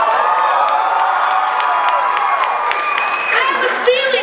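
Audience at a CUSP comedy showcase cheering and whooping, a dense burst of crowd voices and applause that stays loud and sustained across the short moment.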